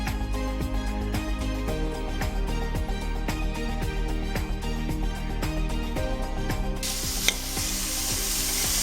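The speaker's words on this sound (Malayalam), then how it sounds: "നമ്മുടെ സവാള നല്ലോണം ഒന്ന് വഴണ്ട് കിട്ടണം." Chopped onions with green chillies, garlic, shallots and ginger sizzle in a pan, a steady close frying hiss broken by regular stirring scrapes, with a brighter, louder burst of sizzle near the end and no voices.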